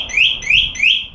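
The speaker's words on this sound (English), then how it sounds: "And as you've seen, the alarms work really well." An alarm on an electric motorcycle or e-bike sounds in three repeated rising electronic chirps, loud and close, with no talk over it.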